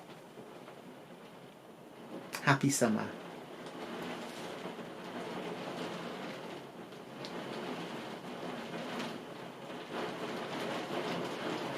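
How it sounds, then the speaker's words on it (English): Rain falls steadily outside as a continuous broadband hiss. A brief loud knock or clatter sounds early on, and a short spoken greeting is heard. "That's rain, by the way."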